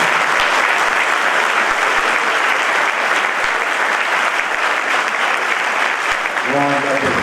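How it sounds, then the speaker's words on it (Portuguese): Loud, dense applause from a church convention audience greeting a newly approved board, sustained and steady throughout at close range. "nós damos por aprovada, por unanimidade, a nova diretoria, para a qual nós pedimos um aplauso."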